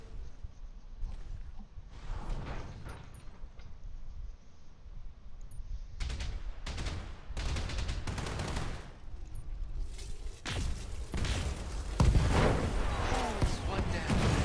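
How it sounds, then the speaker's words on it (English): Turrets fire a volley in the mech combat game Battletech, a series of loud, heavy shots and bursts coming in uneven clusters while someone talks over the fighting. "that was a good opening volley from the turrets"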